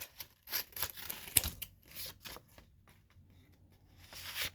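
Scissors snip small pieces off paper in quick, irregular bursts of crisp cuts with short pauses between them, close and fairly quiet, with no talking.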